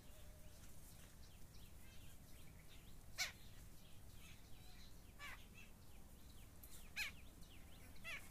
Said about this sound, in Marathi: ते फक्त शांतता आणि पक्ष्यांचे आवाज एवढेच आहे.